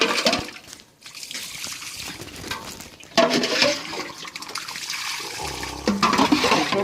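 Water is poured over a dog being washed outdoors in a village, a loud, close splashing gush that dips briefly, then surges again and runs steadily with trickling and dribbling.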